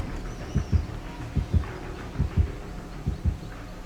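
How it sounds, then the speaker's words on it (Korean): Heartbeat effect from the horror survival game Dead by Daylight, fading as the threat moves away: paired low, muffled thumps repeating steadily at moderate volume over a faint background hum, with no voices. "멀어지는 심장 소리"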